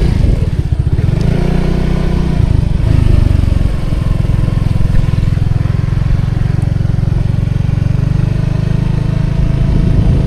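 A farmer's motorcycle engine runs steadily at close range in a rural hillside setting in Cilacap, with a continuous loud low drone and a brief surge near the start, heard alone without talk.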